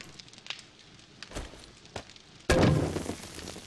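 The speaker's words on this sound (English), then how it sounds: "And turn the fire on." A campfire in the video game 7 Days to Die flares up with a sudden loud whoosh midway, then burns with steady roaring crackle, preceded by a few soft thuds and clicks.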